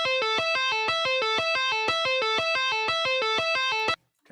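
A finger tapping exercise plays back from Guitar Pro at 120, giving a fast, even run of bright repeating guitar notes in a steady cycling pattern that stops abruptly near the end.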